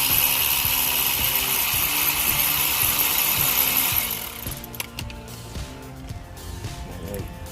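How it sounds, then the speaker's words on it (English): On a 2009 Pontiac G6, a wrench works the 14 mm nut at the bottom of a brake caliper. Several seconds of harsh grinding noise give way to sparse metallic clicks and ratcheting. "Here you're gonna bust this nut right here at the bottom. It's 14 millimeter or 9/16."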